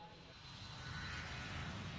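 A steady, fairly faint engine drone of an airplane in flight in the video game Ace Attorney: Spirit of Justice, a broad even rumble that swells slightly and holds without breaks.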